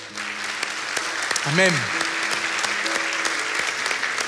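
Congregation applause at a church service, a steady patter of many hands with a voice speaking briefly over it in the middle.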